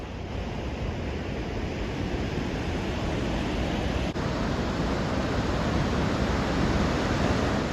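Rushing water of the Yellowstone River near the falls in Yellowstone National Park, a steady, loud broadband roar that holds constant throughout with no pauses and no voices.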